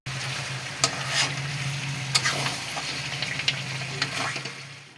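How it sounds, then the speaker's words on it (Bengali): Chicken sautéing with a spoonful of roasted ground spice in a pan for a shahi chicken dish with cashews, a steady sizzle broken by scraping stirs and a low hum underneath, close and alone. "মশলাটা দিয়ে ভালো করে কষতে থাকলাম চিকেনটা"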